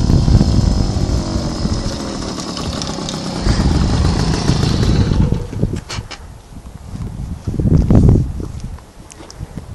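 A Puch Maxi moped engine runs loud and close, a buzzing drone that later breaks into uneven revving bursts, with no talking.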